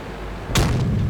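A Centurion tank's main gun fires a single shot in a video game match on a swamp map: one sharp, booming blast over a low, steady rumble, with a brief rolling tail and no speech.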